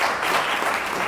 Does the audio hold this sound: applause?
yes